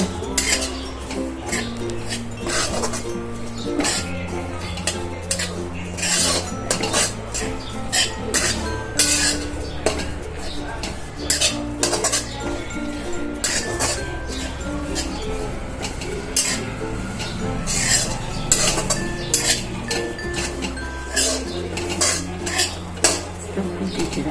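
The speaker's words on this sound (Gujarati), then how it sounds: "આપણે ખાલી 2 મિનિટ જ એને ઘીમાં સોતરી લેવાનું છે." Grated coconut being sautéed in ghee in a pan, stirred continuously with a metal spoon that scrapes and clinks in a busy, close rhythm, with faint frying beneath.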